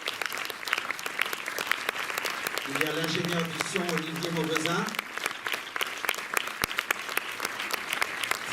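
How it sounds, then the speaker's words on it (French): A cinema audience applauds the film crew at a screening in Lille, steady clapping running throughout while someone talks over it introducing crew members. "Et les villes de Lille, ça s'applaudit quand même."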